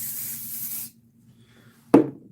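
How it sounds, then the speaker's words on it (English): An aerosol can of guitar string cleaner and lubricant sprays in a steady close hiss for about a second, then stops; a sharp knock or clunk follows near the end. "String cleaner, lubricant, and an aerosol bottle."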